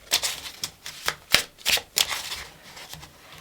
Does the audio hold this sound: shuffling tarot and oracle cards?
yes